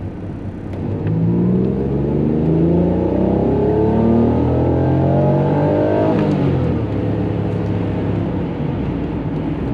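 A high-mileage Honda NSX with 320,000 miles, under fuel pressure testing for a surge problem, accelerates hard on a test drive. The engine climbs through the revs, shifts gear partway, then pulls again, loud and close throughout.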